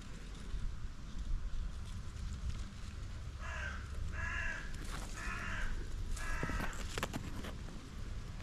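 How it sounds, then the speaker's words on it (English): Crows caw in short repeated bursts of three or four harsh calls, mid-distance, over a steady outdoor hiss while blackberries are picked, with no talking. "Can you hear the crows?"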